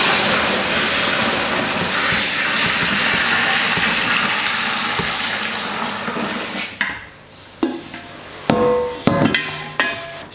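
Grape ale wort, made from Vienna-style wort, being poured: a steady loud gushing splash for several seconds that breaks off, followed by scattered clinks and knocks of brewing vessels.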